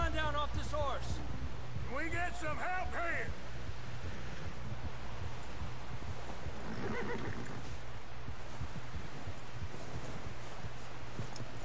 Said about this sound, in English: Because, I mean, hell, you're on that damn horse most of the game.